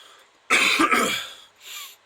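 A single loud cough, followed a moment later by a softer, shorter cough or throat clearing.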